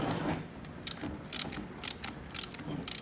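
Torque wrench tightening crankcase bolts on a Rotax 503/582 engine, with several short bursts of close ratchet clicks separated by brief pauses.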